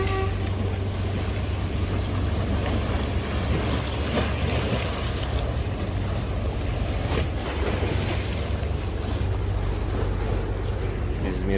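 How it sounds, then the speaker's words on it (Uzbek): Aegean Sea waves wash against the shore at Izmir, a constant surging rush mixed with strong wind buffeting the microphone and a low steady hum underneath. "to'lqinlarni sohilga urilishini tomosha qilasiz"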